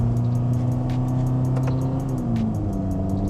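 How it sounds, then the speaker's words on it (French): A Ferrari Roma or Cayenne Turbo GT sports car revs loud and close with a steady engine drone, shifting pitch partway through, with small crackling exhaust pops scattered over the roar. "Il fait des petits retours d'échappement."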